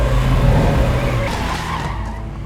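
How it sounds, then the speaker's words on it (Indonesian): A car skids with a drawn-out, roaring tire scrape as it grazes a woman in a film scene, the loud, steady rumble continuous through the moment and slowly easing off, with no talking. "Dia diserempet mobil dan terjatuh."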